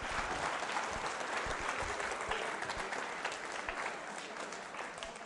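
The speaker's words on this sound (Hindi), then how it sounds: "तालियां बजाइए सभी के लिए।" Students and audience at a school quiz show at Bright Future Public School break into a steady, dense round of applause that holds throughout and tapers slightly at the end.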